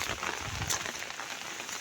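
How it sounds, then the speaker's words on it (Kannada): Rain falls over a ginger field, a soft continuous hiss of drops on leaves and ground at low level with no other sounds standing out. "ಮಳೆ ಇದೆ."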